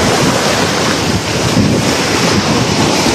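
Sea waves surging and slapping against a gutter, a loud, continuous wash of surf mixed with heavy wind buffeting the microphone, with no clear breaks between strikes.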